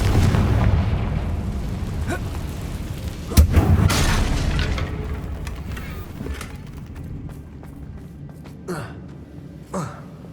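A Confringo blasting curse exploding in Hogwarts Legacy, a sharp loud boom with rumbling debris that decays over several seconds, followed by smaller scattered crackles and thumps.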